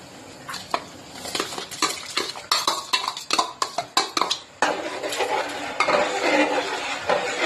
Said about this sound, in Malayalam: നമ്മുടെ അരി ഇട്ട് കൊടുക്കാം